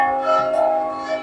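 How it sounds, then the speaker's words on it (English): A church bell in Malta rings loudly and close by, one sustained metallic tone with a rich, ringing hum and no voices. "enjoying some church bells ringing"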